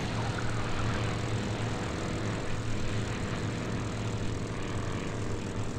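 A Spitfire's propeller engine drones steadily at a constant, close, heavy rumble, filling the whole stretch without pause, in the flight game IL-2 Sturmovik: Cliffs of Dover.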